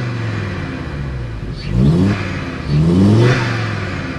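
A car engine revs twice in quick swells over a steady idle, close and fairly loud, with no talk.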